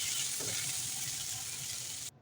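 Lightly boiled, drained vegetables hitting hot oil tempered with five-spice, giving a loud, steady broadband sizzle for about two seconds before cutting off abruptly; no talk.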